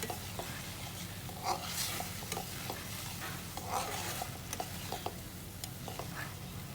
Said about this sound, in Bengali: এখন একে একে সিদ্ধ করে রাখা ডিমগুলোকে ছেড়ে দিচ্ছি মশলার মধ্যে